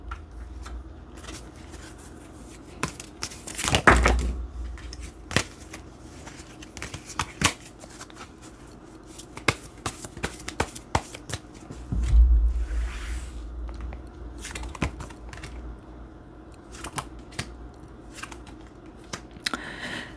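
Tarot cards are shuffled and drawn during a reading: soft riffling and flicking with scattered light clicks and a couple of louder bursts of handling, close and without speech.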